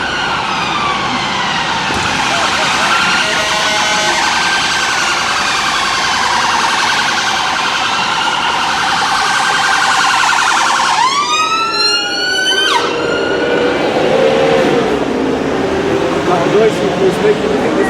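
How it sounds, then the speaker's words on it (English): Ambulance siren wailing loudly nearby, a steady warbling tone that suddenly shifts into rapid, fast-sweeping yelp cycles before settling back, with people talking beneath it. "Amount of noise that the ambulance is making"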